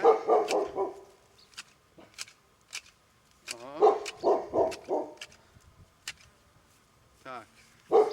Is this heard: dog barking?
yes